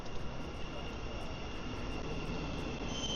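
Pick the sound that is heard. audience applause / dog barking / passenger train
passenger train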